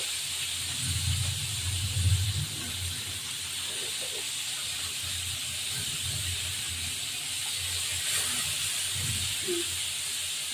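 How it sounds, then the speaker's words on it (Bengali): Hilsa fish frying in a pan, a steady close hiss of oil with low rumbling clatter and a few soft knocks beneath it, moderately loud throughout. "একটু ভাজা হয়ে গেছে, আর একটু ভাজছি।"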